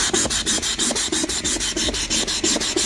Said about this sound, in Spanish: tengo que lijar y desbastar